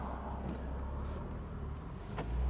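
A Porsche 911 Targa 4 GTS pulls away, its engine giving a steady, close rumble that grows slightly louder toward the end, with no talking.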